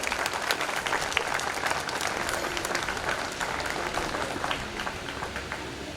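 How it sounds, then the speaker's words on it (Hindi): An audience at a youth gathering applauds loudly and continuously, a dense wash of many hands clapping that holds steady throughout without speech. "जोरदार तालियां बजाएंगे।"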